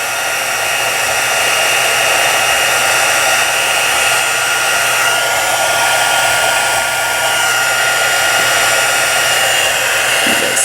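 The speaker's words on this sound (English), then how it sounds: "These heat guns get really hot." A heat gun blows hot air onto embossing powder on a card, making a steady, loud, unbroken whooshing hum that lasts throughout with no voices.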